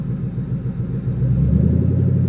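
A car engine idles with a steady low rumble and then revs up, the drone rising and growing louder in the second half, with no talk over it.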